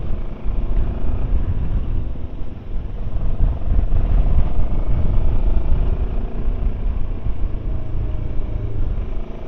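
A Rieju Xplora 707 motorcycle rides down a winding hill in Spain toward the coast, its engine droning steadily under heavy wind rush and low rumble from the bike's own position.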